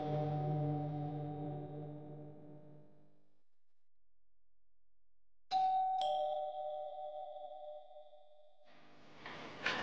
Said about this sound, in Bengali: কলিং বেল দিল। ওই যে আবার দিছে।